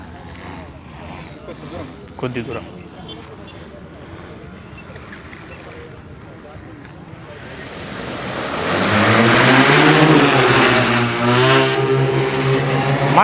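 An agricultural spraying drone switches on and lifts off outdoors, its rotor whine swelling from a low hum into a loud, sustained buzzing roar with shifting pitch, while someone speaks briefly before it spins up.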